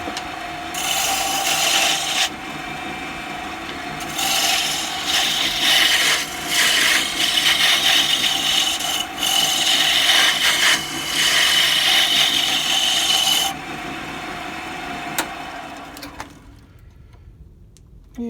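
Maple wood spins on a lathe under a turning tool, a steady close scraping and rasping drone with rhythmic swells that fades out near the end.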